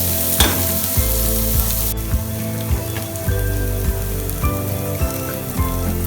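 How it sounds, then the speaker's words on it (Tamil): Onions sauté loudly in a pan for prawn biryani, a dense sizzle with a rhythmic scrape of stirring roughly every half second. Heard up close with no voices. "வெங்காயத்தை நல்லா வதங்க விடுங்க"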